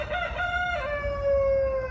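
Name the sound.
cockerel crowing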